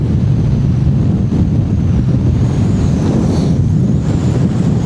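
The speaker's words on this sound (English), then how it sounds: "That wind is really strong now." Strong wind on the River Mersey while fishing in the rain roars steadily into the microphone, a loud, continuous low rumble with buffeting gusts and no pauses.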